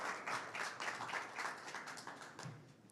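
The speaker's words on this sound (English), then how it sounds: "Could we just give them a round of applause" An audience at a COP28 special event panel session applauds the panelists, a steady, moderately distant wash of clapping lasting a few seconds before fading.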